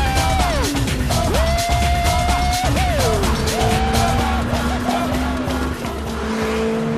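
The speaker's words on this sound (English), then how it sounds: "every time you get on the throttle, it's the supercharger winding" An Ariel Atom's supercharged engine howls under throttle, its rising and falling whine sweeping up and down over a loud, continuous roar, with brief tyre squeal as the car is driven hard.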